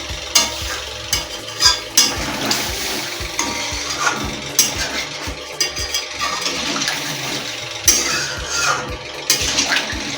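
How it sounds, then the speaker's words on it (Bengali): Water poured into a pan of frying Bengali-style spiced potato curry, a busy sizzle and bubbling with repeated stirring knocks of a spoon against the pan, close and steady. "এবার আমি সামান্য পরিমাণে একটু জল দেবো গ্রেভিটা করার জন্য।"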